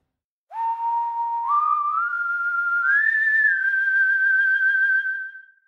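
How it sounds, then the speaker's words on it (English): A single sustained whistle-like synth tone slides upward in steps, then holds with a wavering vibrato before fading out, clear and alone. "a warbly whistle patch"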